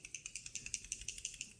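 A handgun-cleaning spray bottle being shaken, a fast, regular series of rattling clicks, about a dozen in quick rhythm, faint and close.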